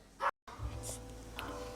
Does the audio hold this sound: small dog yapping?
yes